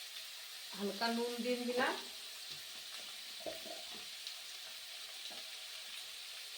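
Cauliflower kofta pieces fry lightly in oil with a soft, steady sizzle. A voice talks briefly near the start, and faint clicks and stirring follow.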